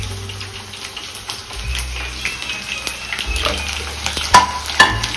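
Garlic, dried red chillies, cumin, fenugreek and mustard seeds sizzle in hot oil with a steady close crackle, broken by a few sharp pops and clinks of a spoon stirring near the end.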